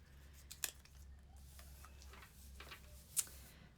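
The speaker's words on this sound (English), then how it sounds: "this is a bullseye, but we're gonna cut it in half." Scissors cut a paper bullseye in half, giving a few faint, sparse snips and clicks at close range in a quiet room.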